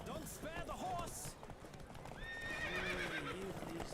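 In The Witcher 3: Wild Hunt, hooves clatter at a fast gallop during a horse race while a horse whinnies, with a shouting voice over the rhythmic pounding.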